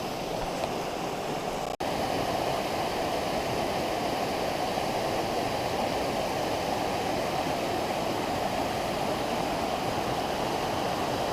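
Indian Creek rushes beneath a small footbridge on the northbound Indian Creek Trail. It makes a steady, loud, close wash of flowing water that holds unbroken throughout, with no voices.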